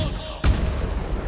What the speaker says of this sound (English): Let's do chromatic orb.